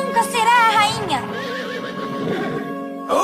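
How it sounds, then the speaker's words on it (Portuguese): A cartoon horse, the fiery horse of the old Thundercats animated series, lets out a loud, close, wavering whinny that trails off into snorting and background effects, ending with a sharp sound. "Oh, não! É o cavalo de fogo!"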